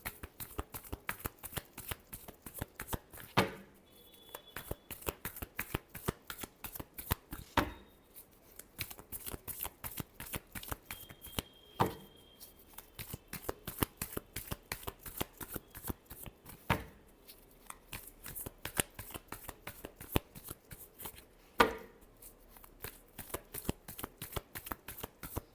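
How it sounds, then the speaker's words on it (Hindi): Tarot cards are shuffled continuously, producing a dense stream of crisp riffling flicks with a few sharper slaps standing out, close and fairly quiet with no talking. "last shuffle"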